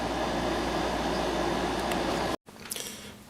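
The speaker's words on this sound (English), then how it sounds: "And then I got this 5450 BTU Kenmore running as well upstairs." A Kenmore 5450 BTU air conditioner running upstairs, a steady, loud broadband whoosh and hum that drops away suddenly, leaving quieter room noise.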